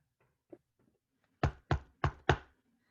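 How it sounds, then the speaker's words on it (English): Knocking at a door in a radio play of Macbeth: four firm, evenly spaced knocks, close and clear against near silence, with a few faint taps before them. "I hear a knocking at the south entry."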